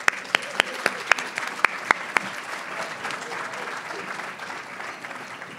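Audience at a 20th anniversary benefit applauds sponsors, beginning with a few sharp individual claps and swelling into sustained, moderately loud applause from the room, with faint voices murmuring underneath.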